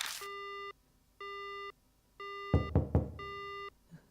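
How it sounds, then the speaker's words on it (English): A dead phone line in the video game Death Mark gives four evenly spaced flat beeping tones, with a pair of sharp knocks sounding between the third and fourth beeps. "Suddenly the phone goes dead."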